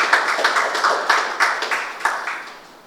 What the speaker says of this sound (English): Let us put our hands together for that.